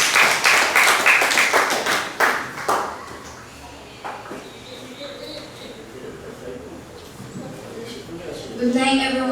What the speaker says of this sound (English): Please give Brittany a round of applause as she comes up and read her poem for us.